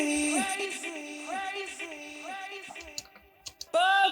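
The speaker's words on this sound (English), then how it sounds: "Now we've got this vocal glitch atmos" Chopped vocal fragments stutter and glitch in short repeated bursts over a deep house track, pitched tones cutting in and out before a louder held vocal stab at the end.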